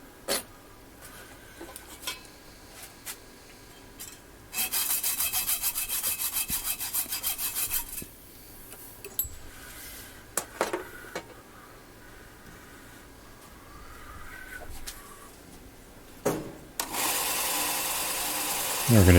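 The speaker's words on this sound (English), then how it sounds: "we're going to cut the crosses free from that metal brazing rod" Brass crosses being sawn free from a metal brazing rod in a workshop, with bursts of rasping hand-saw strokes separated by quieter pauses and handling knocks, and a final loud cutting stretch near the end.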